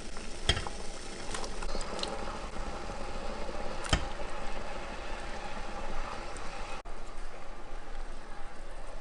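Shrimp and aromatics sizzle in a pan with a continuous, even frying hiss and a couple of sharp clinks, moderately loud and close, with no talking.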